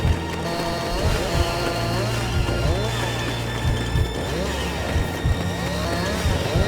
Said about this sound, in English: I'm going to have to take my chainsaw to it